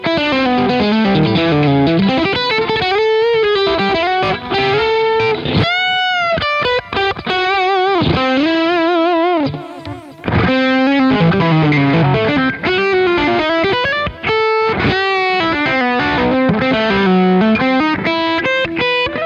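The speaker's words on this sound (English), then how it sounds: "this is the Mad Professor overdrive, which again gives it a nice sort of" An electric guitar plays melodic lead lines through a Mad Professor overdrive capture on a Quad Cortex, loud and continuous with sustained, bending notes and warm distortion, with no talking.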